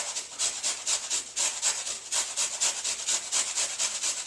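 A carrot is rubbed against a hand grater in a kitchen, making rapid, rhythmic rasping strokes that repeat steadily and close up with no talk.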